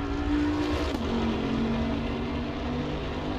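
A Bentley Continental race car in Assetto Corsa Competizione drones on a straight, its engine a loud steady tone that shifts down in pitch briefly after one second, then holds.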